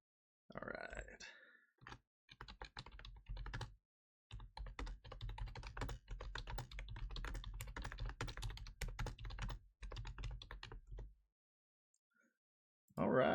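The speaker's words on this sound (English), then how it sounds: "I hope everybody could hear me like slamming down on the keys while I was trying to get that all." A computer keyboard hammered in fast, hard typing bursts, keys clacking close and dense with brief pauses between runs.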